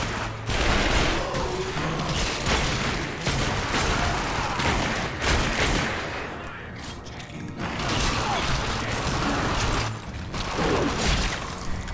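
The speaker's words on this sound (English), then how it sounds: "I love how he's still shooting." Sustained heavy gunfire and crashing impacts fill a chaotic firefight in The Darkness II, dense and loud throughout with brief lulls before the shooting resumes.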